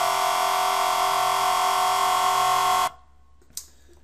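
A Massive scream synth patch holds one long, solid sustained note, harsh and buzzy with a dense noisy top, for nearly three seconds before it cuts off. A faint tick follows in near silence.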